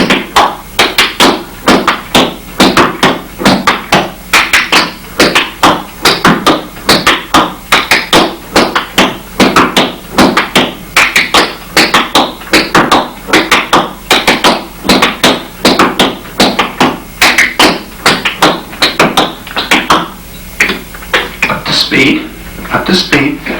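Flatfoot dance heel-toe steps tap out a fast, steady rhythm of crisp, close percussive hits that run continuously, with a voice talking over them.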